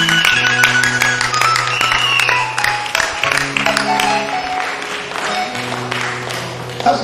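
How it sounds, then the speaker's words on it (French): During a church worship service, the congregation claps and cheers over loud, sustained keyboard music. The clapping is bright and continuous, blending into the music throughout. "On acclame bien."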